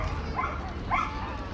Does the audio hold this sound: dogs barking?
yes